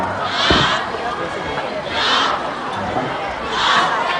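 A green-colour cheering squad in the stands at a school sports day chants in loud rhythmic waves, three swelling bursts of massed young voices rising and falling in turn.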